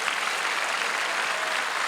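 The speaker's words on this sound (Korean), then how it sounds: "먼저 하나님과 우리 주 예수 그리스도에게 감사의 박수를 보냅시다" Korean church congregation clapping in thanks during a worship rally, an even, sustained burst of applause from a large crowd, filling the space without talk.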